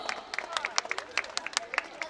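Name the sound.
audience applause at a school prize giving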